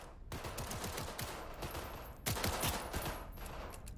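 Rapid bursts of video game gunfire at a shooting target, a dense run of shots that pauses briefly and then resumes louder for a second volley.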